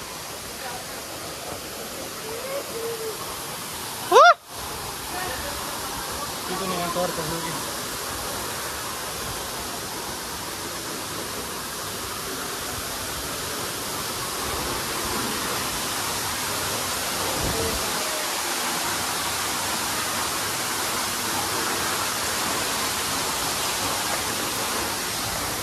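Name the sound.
waterfall water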